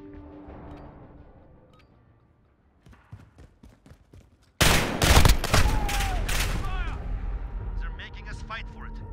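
Dense gunfire and explosive bursts from a Modern Warfare match erupt loudly at mid-clip after sparse shots, with game voice lines heard over the sustained firefight.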